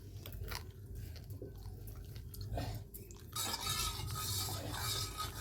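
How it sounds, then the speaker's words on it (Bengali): Pitha batter, salted, stirred steadily in a pan, giving a continuous scraping and tapping close by, with a brighter sizzling rush swelling in the last couple of seconds. "এরকমভাবে নাড়তেই থাকতে হবে, নাড়তেই থাকতে হবে, সমানে নাড়তে থাকতে হবে"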